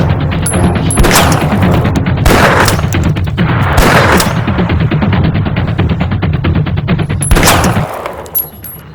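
Sustained gunfire in a rapid rattling stream of dense, loud shots with several heavier booming bursts, close and harsh throughout, then cutting off near the end.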